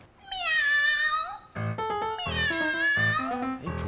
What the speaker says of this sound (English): Hey, pusa ba? Pusa? I love cats!